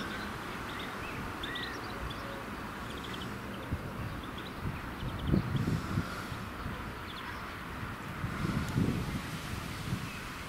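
Wind buffets the microphone in uneven gusts, rumbling louder in a couple of surges, with faint rustling and distant chirps underneath.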